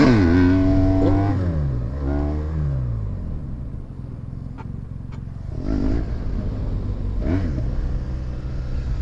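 A BMW motorcycle's engine revs and climbs through gears while riding, loud and close, with rising and falling pitch sweeps and a steady rumble underneath.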